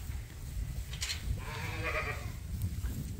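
Sheep bleat in a barn at feeding time, a single wavering call rising in the middle above a low rumbling, shuffling background at moderate distance.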